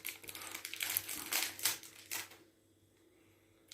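Crinkly packaging being torn and unwrapped from a box of Russian chocolates, a run of close, sharp crackling bursts over about two seconds, then quiet with only faint handling.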